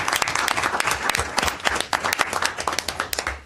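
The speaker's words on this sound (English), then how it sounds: "I think we should give them a round of applause." A round of applause breaks out at a city council meeting, dense overlapping clapping from the room holding steady for several seconds with no talk over it.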